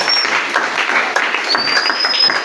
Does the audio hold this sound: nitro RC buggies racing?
no